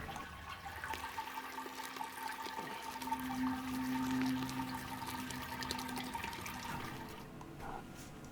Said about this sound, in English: So I stopped sparging when I hit my 30 litre mark.